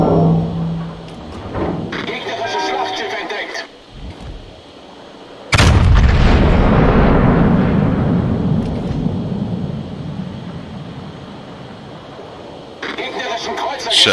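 Battleship main guns fire shells in World of Warships: a single huge, close boom with a long rolling rumble that fades slowly, preceded by lighter engine and game noise, with someone talking throughout.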